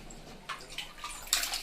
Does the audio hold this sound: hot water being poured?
yes